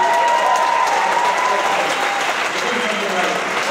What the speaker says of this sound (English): really one round of applause, really.